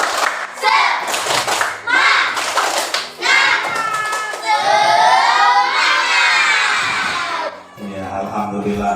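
A classroom of children performs a rhythmic spirit clap, loud quick bursts of clapping mixed with shouted chanting voices, then rising into a sustained group cheer before breaking off.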